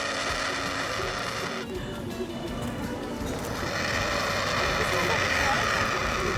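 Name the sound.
helicopter during a sightseeing ride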